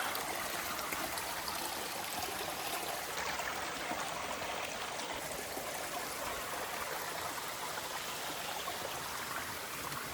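A stream of water flows over stones on Mt. Cheaha in Alabama, a steady, even rush and trickle that continues without pause, fairly faint and with no voices.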